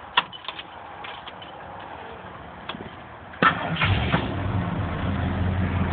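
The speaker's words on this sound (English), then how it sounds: "Let's go ahead and start it, see what she sounds like." A 1951 Ford F1 truck engine starts: a few quiet clicks and rustles, then a sudden crank at about three and a half seconds that catches into a low, steady running rumble.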